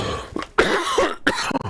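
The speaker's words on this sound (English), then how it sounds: "I'm starting to cough again now." A person coughing during a live Christmas tree kit build, a few harsh, close coughs in quick succession, loud and clear with no talking.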